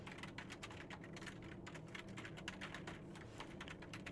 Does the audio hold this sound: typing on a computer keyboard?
yes